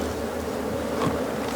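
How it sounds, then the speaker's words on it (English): A dense, steady drone of many honeybees buzzing inside an opened beehive in Botswana, close and continuous with no voices over it. "so you're gonna find more and more bees deeper we go"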